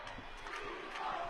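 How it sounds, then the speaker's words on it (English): A hockey arena crowd chants in unison during a lopsided game, a loud, rhythmic mass of voices that holds steady and swells slightly toward the end. "Crowd chanting, "We want 10," as Jared Thomas brings it in."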